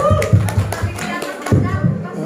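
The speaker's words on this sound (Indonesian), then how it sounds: "Tepuk tangan untuk Ibu Laini." A burst of hand clapping from a group, steady and fairly loud, with some voices mixed in.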